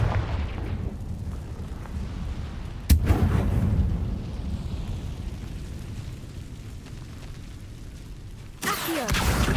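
A Confringo blasting spell in the video game Hogwarts Legacy lands with a sharp bang followed by a low, rumbling blast; a deep booming bed runs throughout, and a second burst hits near the end.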